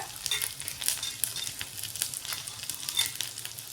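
Garlic, ginger and three or four green chillies sautéing in a hot pan for a spicy pea and paneer curry, giving a steady close sizzle with soft stirring scrapes throughout.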